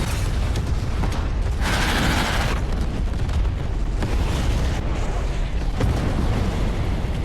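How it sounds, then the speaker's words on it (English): Dense, continuous explosive rumble with a louder burst near the start, like heavy blasts going off one after another with no pause. "explosions erupted on all sides"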